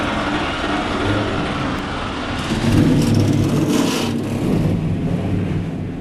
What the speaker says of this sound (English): Drivers, start your engines.